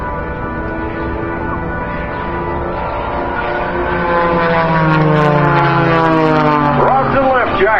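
Propeller aerobatic airplanes perform simultaneous torque rolls at a 2014 Lehigh Valley air show, their engines droning steadily and swelling louder with shifting pitch as they climb, with a crowd voice talking over them.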